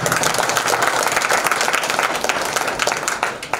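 Audience applause at an ashram gathering in Banthra, Lucknow, a dense steady wash of many hands clapping together that continues throughout and fades slightly near the end.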